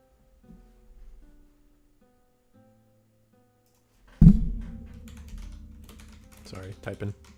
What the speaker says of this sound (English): Sorry, typing.